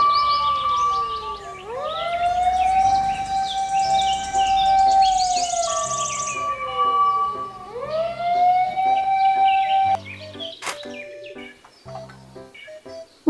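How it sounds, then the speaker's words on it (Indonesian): A toy fire truck's electronic siren wails in two rising-and-falling sweeps, fairly loud and close, followed by a few seconds of chirpy beeping tones. "Mobil truk pemadam kebakaran."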